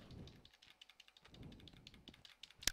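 Rapid clicking in a YouTube Simulator video game, a steady run of light, quick clicks close up and fairly quiet, with one sharper click near the end.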